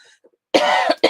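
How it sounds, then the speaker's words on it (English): Two sharp, close coughs in quick succession, following a brief faint sound at the start. "Excuse me for coughing in your ear."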